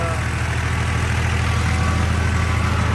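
A New Holland tractor runs a straw machine following combines in a harvested field, giving a steady, loud, low engine drone that holds even and unbroken throughout.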